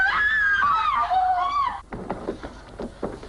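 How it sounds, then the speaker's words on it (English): A woman in a hotel linen room lets out a high, wavering scream lasting nearly two seconds, followed by muffled movement and thuds. "why do women scream so?"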